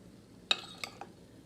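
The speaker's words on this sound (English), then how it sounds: "Now that everything is done, I'm gonna dish it up." Dishes and cutlery clink while food of potatoes, zucchini, onions and bacon is served onto a plate: three quick, close metallic clinks, the first sharpest, over quiet background.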